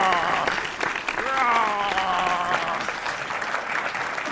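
An audience applauds steadily after an augmented-reality gaming demonstration, with dense sustained clapping throughout and a voice speaking over it.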